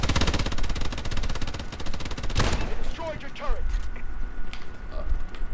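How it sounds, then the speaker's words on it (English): Sentry gun in Call of Duty: Advanced Warfare fires a rapid, steady burst of automatic shots for about two and a half seconds, loud and close, followed by scattered game noise and mechanical creaks. "Hopefully that sentry gun gets us a few kills."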